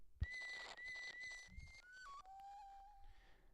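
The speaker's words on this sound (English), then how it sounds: "I got whistle samples in here right now." Whistling samples play back from a Digitakt sampler held up to a microphone: a thump, then a sustained whistled tone that steps down in pitch twice, ending on a lower held note, clear and fairly close.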